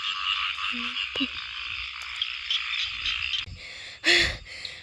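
Many frogs croak in a loud, dense chorus of chirring calls, with a few nearer single croaks and a brief bump near the end, no talk.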